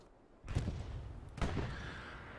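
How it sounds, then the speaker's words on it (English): Two heavy booms of artillery fire in the World War II shooter Hell Let Loose, each a sharp broadband blast about a second apart with a rumbling decay, set against a steady low battlefield din. "Artillery is raining down on the area of one CDO here more and more."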